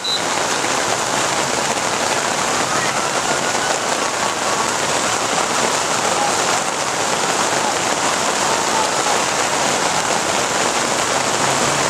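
Steady rain falls on a surface beside a youth football field, a dense, even hiss that stays constant and fairly loud for the whole stretch, with no clear voices.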